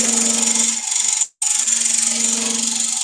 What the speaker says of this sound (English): With a negative rake scraper, you can actually hit the rim